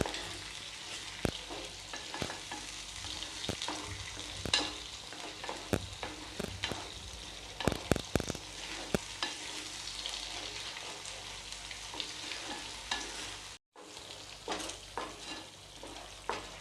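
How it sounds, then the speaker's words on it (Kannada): Kolhapuri paneer masala frying in a pan gives a soft, steady sizzle beneath scattered scrapes and clicks of a spoon against the pan. "ಮಸಾಲೆ ಒಳಗಿರೋ ಹಸಿ ವಾಸನೆ ಪೂರ್ತಿ ಹೋಗೋವರೆಗೂ ನಾವು ಫ್ರೈ ಮಾಡ್ಕೊಳ್ಳೋಣ ಇದನ್ನು"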